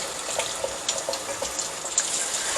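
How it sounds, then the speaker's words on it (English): Tap water runs steadily through chicken sausage casings to flush out salty water, a continuous hiss of flow with small splashes and clicks at close range. "that flushes all that water out, all that salty water out of there"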